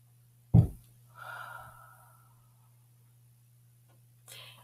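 A single deep breath: a sharp, close inhale followed by a softer, drawn-out exhale, then a faint breath near the end over low hum.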